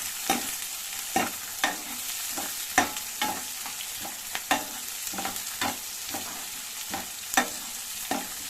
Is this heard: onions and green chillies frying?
yes